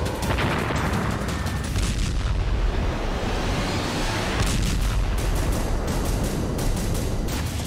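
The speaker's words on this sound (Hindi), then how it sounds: "देखिए कैसे रूस के अत्याधुनिक टैंकों को विस्फोट से गोड़ाया जाता है" Explosions destroy Russian tanks in Ukraine war footage, heavy booming blasts and rapid bursts of fire run loud and dense throughout with no voices.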